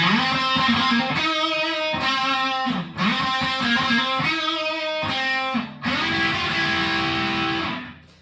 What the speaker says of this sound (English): And then Johnny's gonna slide up into that fill, which sounds like this.